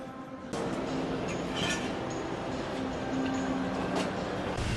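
A Las Vegas monorail train runs between MGM resorts with a steady rumbling roll and faint squeals and clinks, continuous and fairly close.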